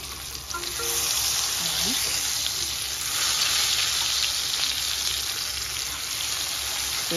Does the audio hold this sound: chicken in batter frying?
yes